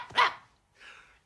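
A small cartoon dog in an Asterix animation gives two quick, fairly close barks, the first sharp and bright, the second softer and shorter, with no talk around them.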